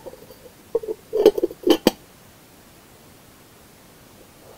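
A glass lid set onto a printed glass container, giving a cluster of clinks and chinks in close succession, close and fairly clear over a quiet background, then a faint knock at the end.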